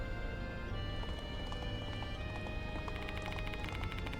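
Rhythmic clip-clop of a galloping horse's hooves from the Death Mark 2 video game, heard at night on an empty Metro Expressway, steady repeated hoof clicks over a constant low engine rumble, with no talking.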